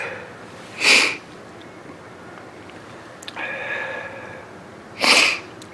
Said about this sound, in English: excuse me sniffling.